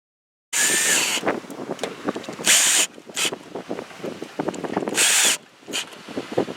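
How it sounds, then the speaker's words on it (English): A power drill drives screws to fix a camera mounting bracket onto a Mercedes Sprinter van, three loud, close whirring bursts separated by gaps filled with clicks, handling noises and light rustling, with no voices. "Now that the mounting bracket's been screwed down and sealed"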